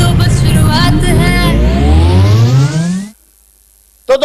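A car accelerating from a played lifestyle video at a network-marketing seminar, a loud engine whose pitch rises steadily as it revs up, cutting off abruptly into near silence before a brief burst returns.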